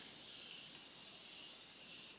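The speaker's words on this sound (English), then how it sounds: "A bit more setting spray," A makeup setting spray gives off a steady, soft, close hiss lasting about two seconds, airy and continuous, then cuts off, with no voices.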